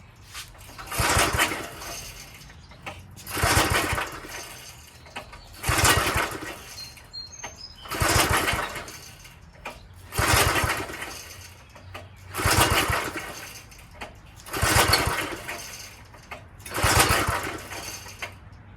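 An old Craftsman tiller engine is pull-started again and again without catching, eight evenly spaced rasping recoil pulls, each a short whirring burst followed by a quiet pause.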